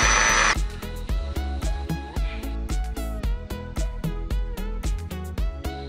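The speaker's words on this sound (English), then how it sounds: "Just drill them together and you've got your frame." A power drill whirs in short repeated bursts, starting and stopping in a steady rhythm as it drives into a wooden mini greenhouse frame.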